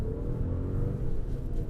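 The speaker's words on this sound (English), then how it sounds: "Love those 3-cylinder thrums." A low, steady three-cylinder engine thrum from a Fiat 500X rumbles close by, even and unbroken, with no voices over it.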